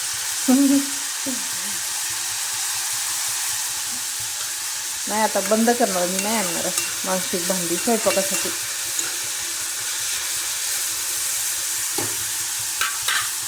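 Moth bean dal and onion fry in oil in a pan, a close, steady sizzle with stirring, while someone talks intermittently over it in the middle and toward the end.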